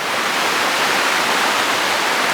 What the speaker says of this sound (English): the water's getting pretty loud. There's a river over here